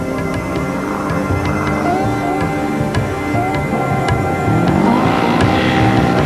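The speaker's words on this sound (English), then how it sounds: "Simon Jean-Joseph in his distinctive pink buggy rumbling through the dunes." A pink Dakar rally buggy rumbles through desert sand dunes, its engine a loud, continuous, gritty drone with shifting revs and rising pitch sweeps, building slightly toward the end.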